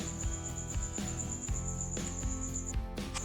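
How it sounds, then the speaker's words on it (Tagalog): Crickets chirp steadily at night in a high, continuous trill, with a low rumbling background and irregular lower noises underneath. "Maraming kuliglig dito."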